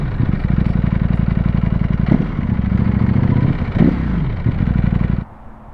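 A Ducati Panigale V4 sport motorcycle roars loudly up close, its engine pulsing and rising through revs with brief dips between gear changes, then the sound drops away abruptly near the end.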